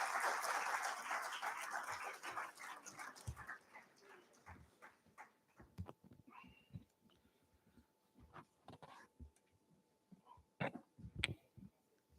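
An audience applauds the MD and CEO at a pre-qualified credit card launch event. Dense clapping opens loud, then thins to scattered, fading claps with a few isolated bursts.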